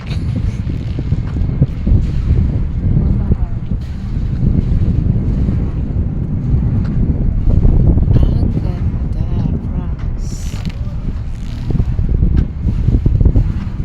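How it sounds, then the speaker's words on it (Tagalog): Low, steady rumble of a small outboard boat motor by the sea in the morning, mixed with gusty wind buffeting the microphone, with waves splashing nearby throughout. "Pinaandar na nila yung isang bangka."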